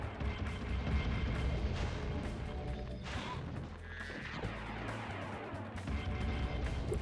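Heavy booming cannon blasts and crashing impacts from combat in Spyro 3, with dense rumbling low end and a continuous barrage throughout, loud and close.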